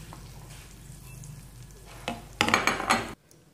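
Pork intestines frying in oil in a pan, a steady crackling sizzle that jumps into louder spattering and stirring for about a second before cutting off abruptly.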